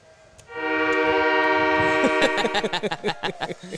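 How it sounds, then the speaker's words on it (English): A freight train passes near a high school baseball field: a long, loud horn blast rises and holds, then gives way to a rhythmic clatter of wheels over rail joints. "Freight train was coming."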